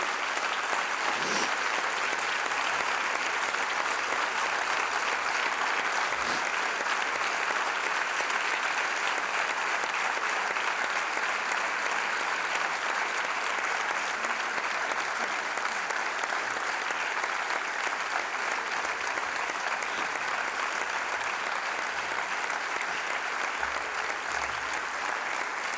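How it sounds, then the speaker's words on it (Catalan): A large audience at the Premis Regió7 2020 awards ceremony gives healthcare workers a long, sustained round of applause, dense steady clapping that continues for about twenty-five seconds. "I ara sí que us demanaria un aplaudiment pels sanitaris"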